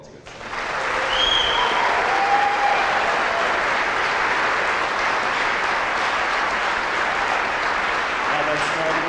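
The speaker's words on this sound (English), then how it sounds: "One more round of applause for all these good singers." Audience applause for choir singers at a spring finale school choir concert, a steady sustained wash of clapping that swells in quickly and fills the hall for the whole stretch, with faint voices beneath.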